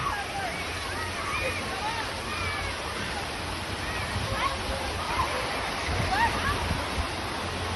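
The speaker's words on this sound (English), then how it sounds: "So we're at the water park." Rushing, splashing water fills a busy water park, a constant broadband wash with voices talking faintly beneath it.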